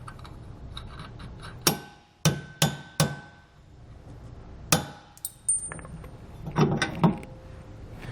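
Hammer punching out the center equalizer bolt on the Dexter E-Z Flex suspension of a 2017 Grand Design Reflection RV, heard as about six sharp, ringing metallic strikes spaced irregularly, close and loud, with no talking.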